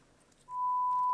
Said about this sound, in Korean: 지금 삐 소리 들리시죠?